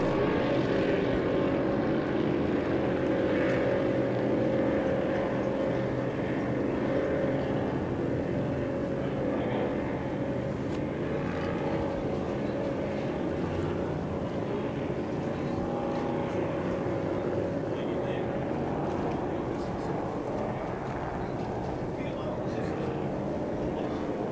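F2 racing powerboat engines roar in a steady, loud, continuous drone at the 2017 St George Powerboat Spectacular race, with a commentator's voice running over the engine noise.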